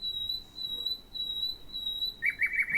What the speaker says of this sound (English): So birds are chirping. They're chirping all the time.